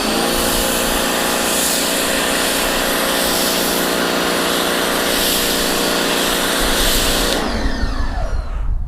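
A Repco Eclipse foam cannon on a pressure washer sprays thick foam onto the back of a car, a loud, steady close-up hiss and motor drone that stops abruptly near the end.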